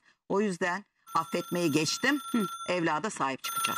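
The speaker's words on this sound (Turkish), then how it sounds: "Bu telefon cart diye konuşmamızın yarısında çalıyor." A telephone rings in a television studio during a talk show, its steady electronic tone running beneath continuous conversation.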